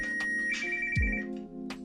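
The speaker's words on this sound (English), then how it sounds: "The phone will play loud music until you find it." A budget rugged LOKMAT ATTACK 2 smartwatch's Find My Phone feature makes the phone ring loudly, a short ringtone melody with a deep thud partway through, alone and close.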